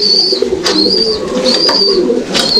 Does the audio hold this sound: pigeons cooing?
yes